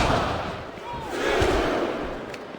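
A large arena crowd in a wrestling video game roars and shouts continuously during an elimination match, a loud wash of cheering that swells slightly in the middle.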